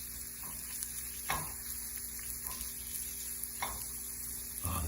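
Shallots and spinach cook in a breakfast pan with a quiet, even sizzle, a faint background hum and a few soft knocks of a utensil against the pan.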